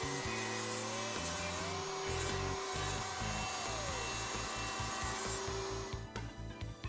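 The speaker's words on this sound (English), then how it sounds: "The first pinboard is then routed, leaving a pin at each edge of the board." A router on a router table cuts a box joint pinboard in a Leigh B975 box joint jig, with a sustained motor whine and a rough, pulsing cutting grind through the wood. Close and continuous, fading near the end.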